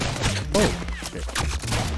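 Bursts of cartoonish gunfire from the rogue-lite shooter game ROUNDS, rapid shots crackling in quick succession with a brief tonal zap in the middle.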